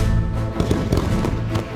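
Fireworks burst in a dense, continuous crackle of rapid pops and bangs, loud and close, with no voices.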